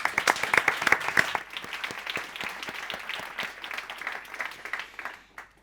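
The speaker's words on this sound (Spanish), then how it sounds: "Fuerte aplauso para Marcos." A conference audience applauds a moderator being introduced. The clapping is dense and lively at first, then thins to scattered claps and fades away over several seconds.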